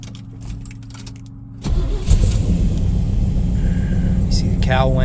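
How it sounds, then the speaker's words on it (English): A car's cowl lowering at a cold start, heard as an engine turning over into a steady low idle rumble with a few key and cabin clicks. The sound is close and continuous after the start. "You see the cowl went down, just so you can see that working."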